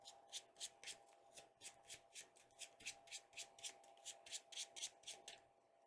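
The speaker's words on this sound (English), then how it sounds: "now we're going to shuffle this up" Cards being shuffled in a quick, steady series of riffling bursts, close and fairly quiet, with no voices.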